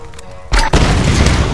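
A grenade launcher round explodes in the Tomb Raider video game, one loud close boom that cuts in abruptly, with a second blast right behind it and a rumbling tail.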